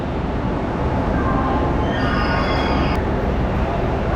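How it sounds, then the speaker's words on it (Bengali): Tamralipta Express 12857 rumbles loudly and steadily near the platform at a station, a dense continuous roar with a faint metallic squeal rising briefly toward the end. "এই হচ্ছে তাম্রলিপ্ত এক্সপ্রেস যেটা দুটো রেক শেয়ার করে"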